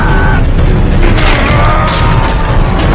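A car slams into an oil tank in an action film, a loud, dense crash and grinding roar that fills the whole stretch without letup.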